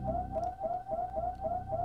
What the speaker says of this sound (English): That freaking siren. That's annoying.